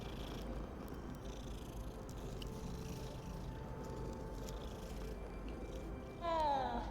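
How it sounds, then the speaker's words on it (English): A cat purring in the video game Hogwarts Legacy, a soft steady rumbling purr under quiet game ambience, ending with a brief louder rising chime-like sound. "It's a little kitty"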